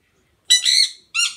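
A pet bird squawks on a video call, giving two sharp, harsh calls close to the mic with a short gap between them and quiet around them.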